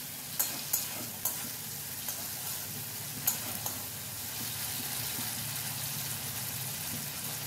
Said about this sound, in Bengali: টমেটোটা দিয়ে বেশ কিছুক্ষণ কম আঁচে একটু নাড়াচাড়া করব।